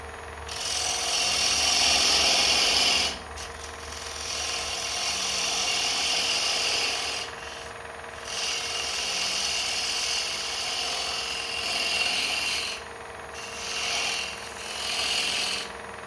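A spindle gouge cuts into a small cherry bowl spinning on a wood lathe, giving a steady, close rushing scrape that runs for about sixteen seconds and swells and eases as the cut changes.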